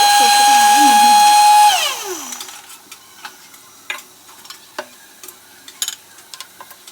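A mixer grinder grinds dry poppy seeds with a loud, high motor whine for almost two seconds, then winds down with a falling pitch. A few scattered clicks and taps follow in near quiet.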